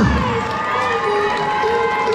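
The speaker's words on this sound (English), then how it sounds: "Let's have a big round of applause for Tracie Zborowska." Crowd cheering and clapping for a boxer after a charity boxing bout in Kent, a dense, steady wash of noise that runs loud and unbroken throughout.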